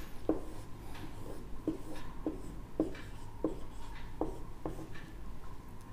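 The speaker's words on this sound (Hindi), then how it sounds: "इसको यहाँ लिख लेते हैं।" Chalk or marker writing on a board while a graph is drawn in a class 10 maths lesson on linear equations, heard as faint, rhythmic tapping strokes and scratches repeating steadily and close by.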